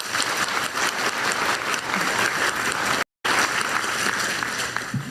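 Steady, dense applause from an audience at a formal public event, loud and continuous throughout, with one brief dropout near the middle.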